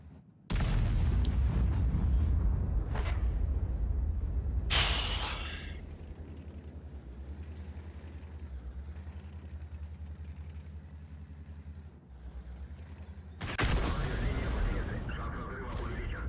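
Heavy cannon shots boom in a video game battle against an enemy vehicle, a few loud separated blasts with long rumbling tails and quieter engine-like drone between them.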